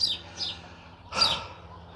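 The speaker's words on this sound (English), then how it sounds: "there's also a chicken just about to lay an egg by the sounds of it" A hen about to lay an egg squawks in two short, shrill bursts, moderately distant, over a low steady background rumble.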